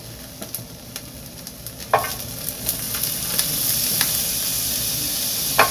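Mung beans sizzle in butter in a pan as a utensil stirs them, a loud steady frying hiss broken by sharp scraping clicks of the spoon, with no voices.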